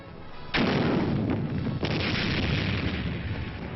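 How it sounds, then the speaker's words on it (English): A US Army recoilless rifle fires with a sudden heavy blast, followed by a long rumbling roar and a second burst that fade slowly, loud and close with no voices. "the miracle weapon of them all, the recoilless rifle, an easy firing weapon packing the punch of an artillery piece"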